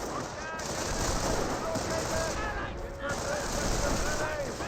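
Rapid M2 heavy machine gun bursts in the Company of Heroes strategy game, steady and loud throughout alongside other battlefield gunfire, with a commentator's voice over the action.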